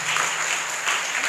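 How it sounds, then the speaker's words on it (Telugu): Audience applause at a church feast-day service, a steady wash of clapping that holds loud and continuous throughout with no voices over it. "గట్టిగా చప్పట్లు కొడతా."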